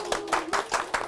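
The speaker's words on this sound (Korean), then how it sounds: "박수 부탁드리겠습니다." An audience claps for a guest CEO at a live talk show, about a second of quick, rhythmic clapping with no voices.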